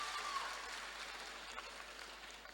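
An audience at a youth empowerment summit applauds the Tamale girls, a soft, steady patter of clapping heard from a distance that fades slightly toward the end.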